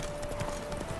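Horse hooves clip-clop at a quick, steady pace in The Witcher 3, close and fairly loud over a constant game ambience with a thin steady tone.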